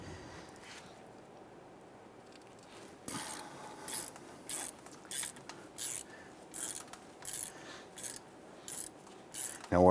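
A socket and ratchet loosen hub bolts on a 1999-2004 Jeep Grand Cherokee during a CV axle replacement: a low background hum at first, then a run of short rhythmic ratcheting clicks in quick bursts, close and distinct.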